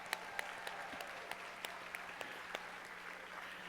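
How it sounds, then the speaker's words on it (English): Steady applause from a crowd, a continuous wash of clapping with a few sharper claps standing out, heard at a moderate distance. "Round of applause."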